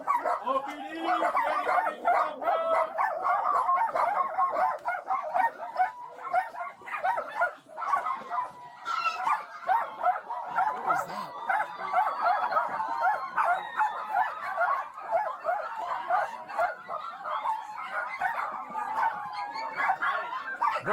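A crowd of dogs at a hoarder's house barks, yips and whimpers almost nonstop, a dense overlapping clamour of many animals, with people talking among them.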